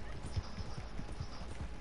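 Steady, rhythmic hoofbeats of a horse in the video game Red Dead Online clop along at a quick trot, moderately close, with faint background ambience and a little murmured voice.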